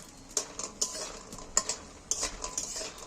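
Lentil dumplings (bori) frying in a pan, a soft low sizzle under a run of sharp metallic taps and scrapes from a spatula or spoon, spaced unevenly and heard close up without voices.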